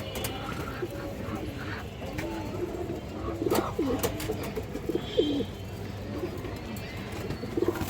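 Pigeons, including a female tota pigeon, give low throaty cooing calls in repeated short bursts amid soft background noise, with a faint voice occasionally present.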